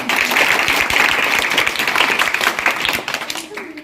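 An audience claps together at a school singing and mimicry performance, a dense burst of applause that thins and fades toward the end, with a voice speaking over it.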